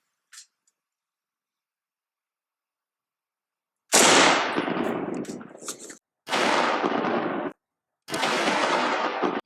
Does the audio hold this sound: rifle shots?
yes